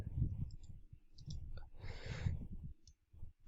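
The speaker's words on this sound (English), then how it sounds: "I'm going to click on save private key." A computer mouse clicks while a private key is being saved. A few faint, quick clicks sound over a low, rumbling room hum.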